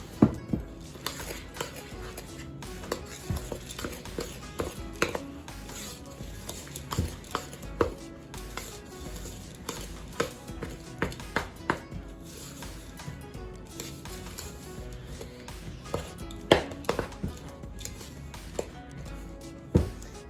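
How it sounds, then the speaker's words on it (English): Cookie bar batter being stirred by hand as flour mixture is folded in, giving a steady run of close scraping and knocking from spoon against bowl, with sharp clicks scattered throughout and no talk. "And then we stir in the flour mixture."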